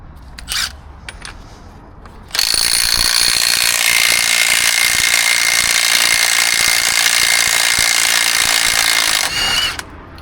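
Power tool spinning off driveshaft nuts on a Renault Kangoo: a short burst, then a loud, sustained whirring and rattling run of about seven seconds, close up, ending abruptly.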